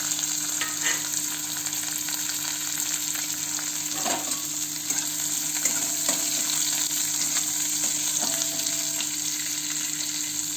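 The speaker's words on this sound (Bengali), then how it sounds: "তেজপাতা দিলাম, ভালো করে নাড়িয়ে নিলাম" Bay leaves fry in hot oil in a pan while being stirred, giving a continuous, close sizzle with occasional light scrapes of the stirring utensil and no speech.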